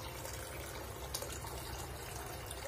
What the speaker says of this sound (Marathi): आता आपण त्याच्यामध्ये पाणी घालणार आहोत